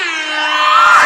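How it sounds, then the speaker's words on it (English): An air horn sound effect blasts as one loud, sustained, brassy tone that stays steady for about a second, with no talking. "let me go ahead and give you a legendary, iconic air horn."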